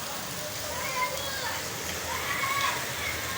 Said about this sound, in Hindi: अभी भी मुसलसल सुबह से अभी तक बारिश हो रही है।